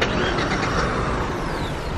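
A car being driven on a road near the Gateway of India, its engine and road noise forming a steady broadband rumble throughout, fairly close and even.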